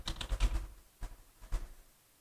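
Keys clack on a computer keyboard in a short quick burst of taps, then two more isolated keystrokes, close and fairly quiet.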